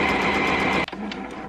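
A sewing machine stitches scrap fabric at its slow speed setting, a close, even mechanical whir with a rapid rhythmic tick that stops abruptly partway through, leaving a softer fading rattle.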